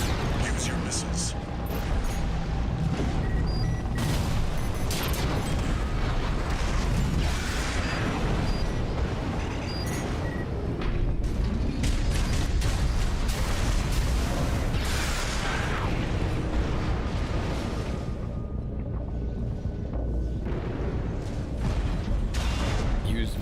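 Missile launches and explosions rumble and crash almost nonstop through a combat video game battle, dense, loud and layered, with voices talking over the action.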